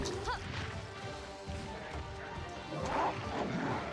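A monster howls during an arena fight in the Wii game Monster Hunter Tri, with a tonal roaring cry mixed with clashing hits and game noise, under a player's occasional speech.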